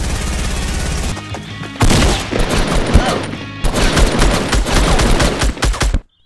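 Rapid bursts of gunfire rattle loudly in a Fortnite animation, with dense automatic volleys separated by brief gaps, ending abruptly in silence.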